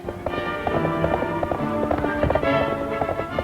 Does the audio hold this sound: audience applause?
no